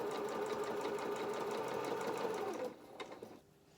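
A sewing machine runs a fast, steady stitch along a 1/4 inch seam on a felt elephant trunk, loud and close, then slows to a few separate stitches and stops near the end.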